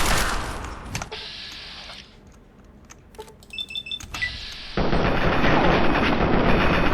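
Game gunfire in Fallout 3, aimed at a super mutant: bursts of sharp shots at the start, a sparser lull with clicks and chimes, then a loud sustained barrage of rapid fire to the end.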